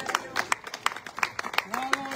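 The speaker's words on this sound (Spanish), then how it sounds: "Denle un aplauso al Señor." A congregation at an evangelical family worship service in church claps in sparse, uneven bursts of fairly close handclaps, with a voice speaking and a tone rising near the end.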